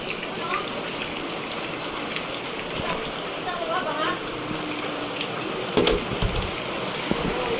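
Rain pours steadily over floodwater in a flooded barangay neighborhood, a dense hiss of drops with occasional splashes, while people talk faintly in the background.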